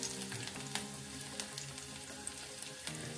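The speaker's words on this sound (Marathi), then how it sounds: "तेल टाकून घेतलेलं आहे. तर लसूण टाकूया." Garlic frying in oil in a pan, a continuous close sizzle with small crackles and occasional stirring scrapes, no talking.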